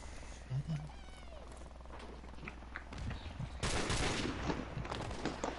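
Call of Duty gunfire plays as constant automatic bursts and shots, getting louder near the end, with voices talking underneath.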